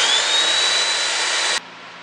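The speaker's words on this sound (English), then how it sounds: "I've got my sander upside down in a vise held with a rag so it doesn't wreck my handle." An upturned power sander clamped in a vise, padded with a rag, sands an axe handle with a loud, steady high whir that cuts off abruptly near the end, leaving a faint hum.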